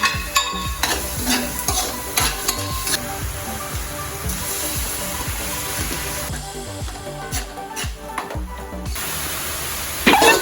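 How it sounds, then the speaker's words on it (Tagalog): Garlic, onion and bagoong alamang shrimp paste sauté in a pan, a loud steady sizzle broken by repeated spatula stirring and scraping strokes, close up throughout. "Habang ginigisa ni Alvin yung bawang, sibuyas, tsaka alamang"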